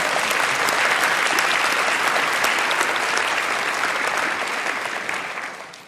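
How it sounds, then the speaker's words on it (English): A large audience claps steadily and fairly loudly at a panel event held in a church hall, a dense wash of applause that gradually tapers off near the end. "Let's give them a round of applause."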